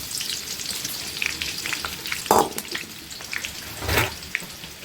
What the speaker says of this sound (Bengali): এই পর্যায়ে আমরা একটু তেল দিয়ে ফেলবো পেঁয়াজটা দিয়ে